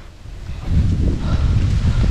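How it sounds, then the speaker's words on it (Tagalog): Wind gusts in a cornfield roar and rumble low across the microphone, rising stronger after a moment and staying steady and loud. "Oh, ang hangin!"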